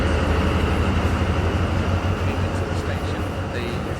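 Sri Lanka train backing up onto another track, a steady loud low rumble and mechanical drone with faint clanks, fading slightly toward the end, with brief talk in the background.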